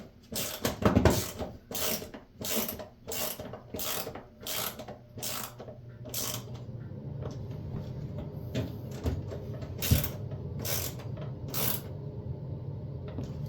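Ratchet driver tightening screws on an LG washer door latch during a DE2 error repair, a run of sharp, rapid clicks in quick bursts, close and loud, with mechanical creaks between strokes and no talking.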